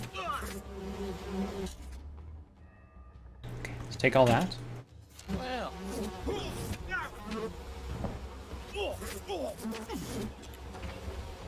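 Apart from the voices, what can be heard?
bees buzzing in the video game We Happy Few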